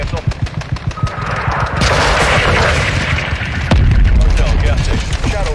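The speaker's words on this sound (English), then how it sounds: "Incoming missile" Heavy automatic gunfire and a big rolling explosion from an incoming missile strike in the Modern Warfare II campaign, rapid close bursts giving way to a loud sustained roar and a deep boom, with radio chatter under it.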